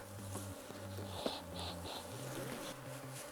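Honeybees swarm around an opened beehive during an inspection, a steady close buzzing with several pitched drones rising and falling as individual bees pass near, with light tapping in the background.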